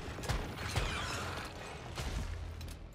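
Gun reloading in the shooter game Once Human: a few quick mechanical clicks and ratcheting clacks over a steady background hum, close and moderately quiet.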